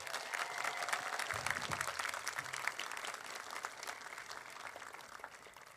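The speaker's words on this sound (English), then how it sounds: "Another round of applause for Meera" Continuous applause from a graduation ceremony audience for a performer, loud and dense with steady crowd clapping that carries through the whole stretch, with a brief cheer or voice mixed in early on.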